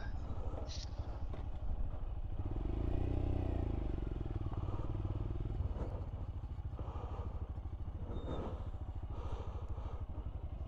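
Royal Enfield motorcycle, a Hunter or Scram, idling on a Highland mountain pass with a steady close thump of the single-cylinder engine and a brief swell in revs, with some clatter around it.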